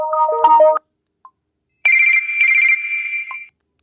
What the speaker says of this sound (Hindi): 3D रिंगटोन का बहुत ही अच्छा साउंड्स होता है जो आप सुन सकते हैं।